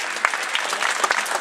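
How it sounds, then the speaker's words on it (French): A short spell of scattered clapping from a sports-training audience welcoming an under-13 girls' handball team, a few distinct claps over a steady patter. "On peut les applaudir."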